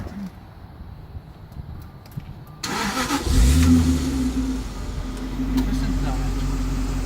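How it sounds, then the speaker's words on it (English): After a quiet stretch with a voice in the background, a 2001 Jaguar XKR Silverstone cranks and catches with a sudden close burst, then settles into a steady, rising idle rumble. "Let me start it up for you."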